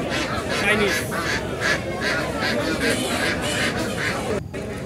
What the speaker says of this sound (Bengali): মুরগির হাট, দেশি মুরগি।